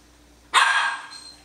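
A single sharp, loud bark from a Norwegian Elkhound, close by, trailing off into a brief ringing echo.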